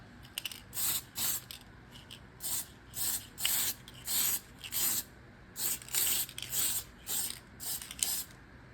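Short repeated bursts of spray paint misting a thin first coat onto an RC car body, roughly a dozen hisses in a steady rhythm, close and fairly loud with brief pauses between them.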